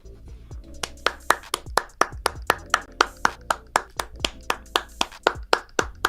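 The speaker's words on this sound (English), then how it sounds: "Clap it up for yourself." A lone person claps steadily during a Detroit Lions vs. Dallas Cowboys post-game show, about twenty sharp, evenly spaced claps close to the microphone with no talk over them.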